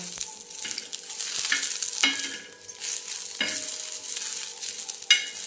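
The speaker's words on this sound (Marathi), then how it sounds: "ठेचं करण्यासाठी मिरच्या टाकल्या तर भाजायला तव्यात" Green chillies roasting on a hot griddle pan give a steady sizzle, with scraping stirs and light metallic clinks of a utensil now and then, close by and with no voices.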